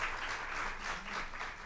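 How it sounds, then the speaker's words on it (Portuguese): Audience applause after a lecture, a steady wash of many hands clapping at moderate, even level throughout, without talk. "a palmas são para Alberto"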